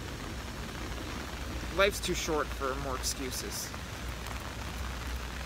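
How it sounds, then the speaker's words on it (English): Pouring rain falls steadily in Western Ukraine, a constant broadband hiss of drops on surfaces running throughout while someone speaks briefly in the middle. "Well, I guess in the pouring rain,"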